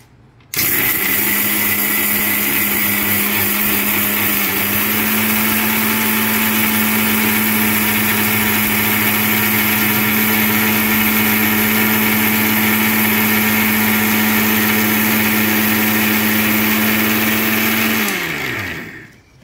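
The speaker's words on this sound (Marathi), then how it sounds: "आता हे आपण सगळं मिक्सरला बारीक करू" A mixer grinder grinding dry spices for masala powder whirs loudly and steadily for close to twenty seconds, a constant high-pitched motor drone that winds down abruptly at the end.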